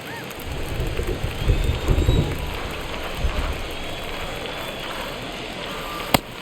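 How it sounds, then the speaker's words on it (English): Steady rain pours over a ballpark during a simulated baseball game in MLB The Show 22, a dense continuous hiss with low rumbles and one sharp crack near the end. "It feels like we might be headed towards a rain delay if the weather doesn't ease up, Chris."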